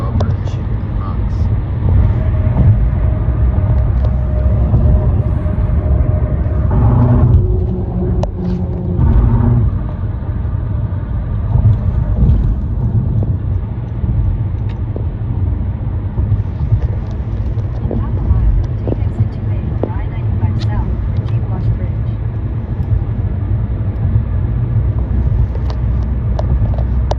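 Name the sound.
car driving across the Hutchinson drawbridge in the Bronx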